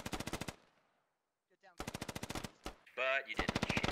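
Soldiers fire in the Squad video game: rapid automatic bursts of gunfire, loud and close, broken by a short pause and a sharp single crack before more sustained fire.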